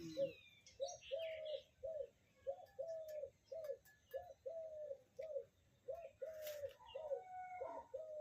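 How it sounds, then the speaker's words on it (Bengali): A dove calls over and over in a steady rhythm of short, hollow coos, clear and fairly close, with faint chirps from other birds behind it. "ঘুঘু পাখি ডাকছে"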